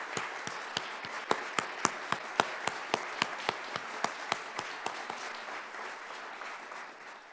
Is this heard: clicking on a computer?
no